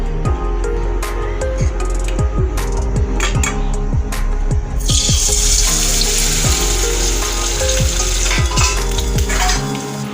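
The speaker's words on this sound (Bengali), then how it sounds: "এবার এই ডিমগুলোকে এর মধ্যে দিয়ে আমি ভেজে নেবো।" Battered eggs frying in hot oil with a loud, close crackling sizzle, punctuated by repeated sharp pops and spatters, intensifying about halfway through into a denser hiss.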